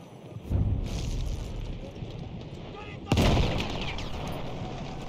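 Dreadnought naval guns bombard a beach in Battlefield 1, two heavy booming blasts a few seconds apart over a constant rumbling battle din.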